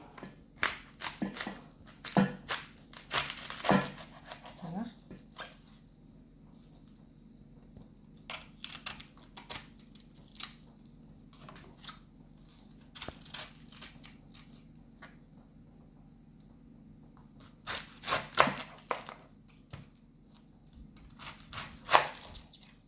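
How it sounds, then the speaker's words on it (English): Cabbage is cut into pieces for steamed Jamaican cabbage, heard as scattered crisp crunching cuts in short clusters with quiet gaps between, close and fairly faint, with no speech. "so I'm just going to burst my cabbage in two"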